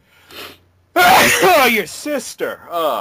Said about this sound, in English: I had a sneeze here.